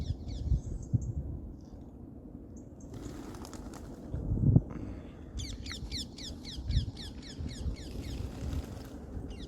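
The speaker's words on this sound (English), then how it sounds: "this bird's going wild." A bird indoors calls in rapid, repeated bursts of sharp, high chirps that grow busier partway through, fairly close but not loud, over a low room rumble with a few thumps.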